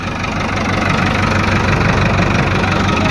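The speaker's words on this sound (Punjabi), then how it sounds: "ਹੁਣ ਟਰੈਕਟਰ ਇਸ ਟਾਈਮ ਪੂਰਾ ਖੁੱਲਿਆ ਪਿਆ ਗਰਮ ਹੋ ਕੇ" A Kartar 5936 tractor engine runs warm and steady at full throttle, a loud, continuous diesel drone with a rough knocking pulse and no voices over it.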